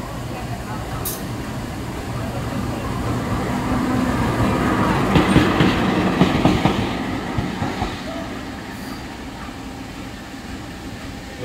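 Argo Sindoro train rolling past at a busy Jakarta station, a loud continuous rumble with rhythmic wheel clatter that swells midway and fades, under station ambience.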